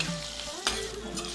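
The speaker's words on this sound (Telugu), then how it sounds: "తాలింపు వేగిపోయింది కదా" A brief, close sizzle of green chillies and curry leaves frying in a tempering for pulihora, with one sharp stir or crackle midway through the steady hiss.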